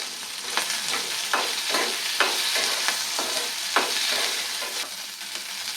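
Chopped okra sautés in a pan with cumin and fenugreek seeds under a dense, bright sizzle, punctuated by regular scraping stirs of a spatula close by.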